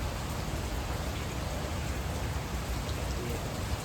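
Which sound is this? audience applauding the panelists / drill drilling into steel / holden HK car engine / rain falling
rain falling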